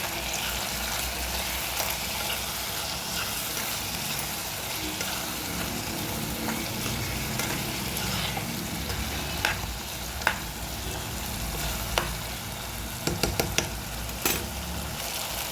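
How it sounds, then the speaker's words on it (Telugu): Eggplant and green pea curry being stirred with a ladle in a pan, a steady sizzling and scraping texture with a few sharp metallic clicks of the ladle toward the end, close and continuous with no talking. "ఇప్పుడు గరిటతో కలుపుకోవాలి"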